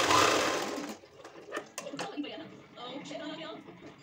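Sewing machine running in short bursts while stitching the back piece of a blouse, loud at first and then broken into softer intermittent runs with small clicks; a voice talks over part of it.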